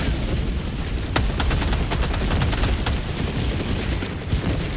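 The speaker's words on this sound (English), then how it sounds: "Orbital barrage incoming." An orbital barrage in Helldivers 2 rains down, a dense, loud stretch of rumbling impacts with repeated sharp cracks and booms crowding together, continuous and close.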